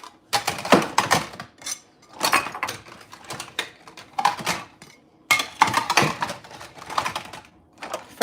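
Dishes being put away in a home kitchen clatter in repeated bursts of clinks and knocks, close and fairly loud, with brief quiet gaps between handfuls.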